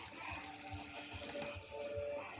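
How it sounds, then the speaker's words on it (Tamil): Urad dal being washed by hand in water for idli batter, with steady soft splashing and swishing, rhythmic low sloshing pulses about every half second, close and continuous, without voices. "அதனால் நல்ல தண்ணி ஊற்றி ஒரு 6 டைம் தண்ணி ஊற்றி நல்லா கொஞ்சம் வெள்ளை தண்ணியாக வர்ற அளவுக்கு களைங்க"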